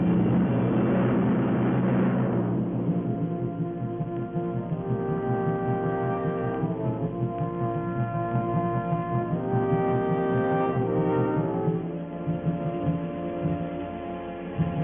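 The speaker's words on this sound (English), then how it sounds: "In a moment, you will see the machine make a perfect belly landing." A Hawker Typhoon of 609 Squadron RAF making a belly landing at Biggin Hill, with a steady loud engine drone and a shifting tonal whine throughout and no voices, apparently from an old film soundtrack.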